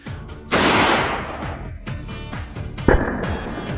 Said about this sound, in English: Then came the 9mm bullet fired from a fully automatic Uzi submachine gun.